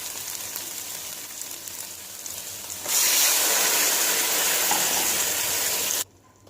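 Chicken stock poured into a hot pan for desi-style Chinese egg fried rice, bursting into a loud, steady sizzle after a quieter first few seconds, then cutting off abruptly near the end.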